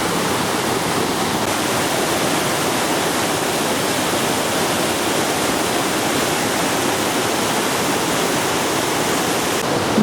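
A steady, broadband rush of the Mandor waterfall near Aguas Calientes, Peru fills the scene without pause, constant and enveloping, with no voices.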